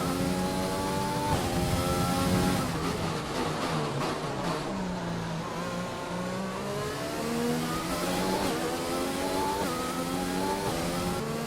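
F1 2020 video game F1 race car engine at the Singapore round, droning continuously with rising and falling revs through repeated gear shifts and accelerations, loud and steady throughout with no talking.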